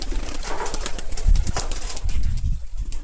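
Pigeons kept at a small family home in Bangladesh, with wings flapping in short bursts and faint cooing among them, heard close by over a steady outdoor background.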